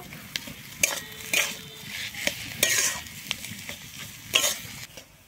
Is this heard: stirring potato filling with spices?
yes